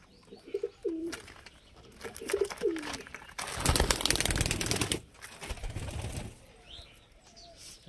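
A few gentle pigeon coos come near the start, then a loud burst of wing flapping or clattering, followed by quieter rustling.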